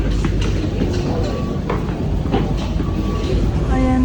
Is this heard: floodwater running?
no